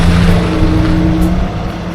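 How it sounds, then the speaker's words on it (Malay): A car's engine hums close by as it is being parked near a mosque on the way to a durian orchard, a loud steady rumble that eases slightly toward the end. "Kereta kita parking sini."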